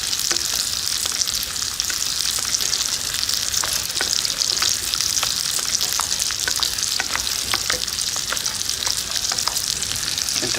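Cutlets fry in a pan with a constant dense sizzle and crackle, steady and fairly loud, with bright pops scattered throughout and no voices.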